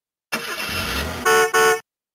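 A 2005 VTech Ma Ville Alphabet toy plays a traffic-jam sound effect: a held electronic car-horn honk followed by two short, louder beeps, clipped and close.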